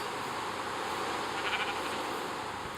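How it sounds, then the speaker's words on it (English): A sheep bleats faintly in Minecraft, heard in a forest area over a steady background hum with no talking. "Oh, sheep in the tree."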